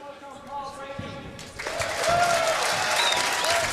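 A crowd at a four-wall handball championship final breaks into steady applause that swells after a brief quieter lead-in, with a voice talking faintly underneath.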